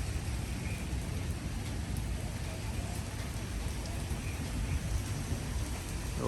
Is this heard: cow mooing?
no